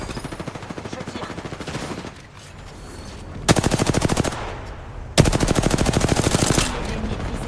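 Rapid automatic gunfire in the battle royale shooter Apex Legends, several long sustained bursts close and loud, separated by short pauses with quieter background game sound.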